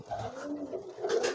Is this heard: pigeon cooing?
yes